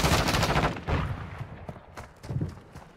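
Rapid automatic gunfire from Call of Duty Modern Warfare 2: dense, loud bursts fill the first second, then shorter volleys follow more faintly in the background with no talking.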